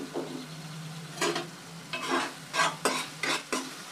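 Spoon stirring a frying tomato-onion paste for oyster mushroom masala, a steady low sizzle broken by several scraping strokes in quick bursts, close and alone.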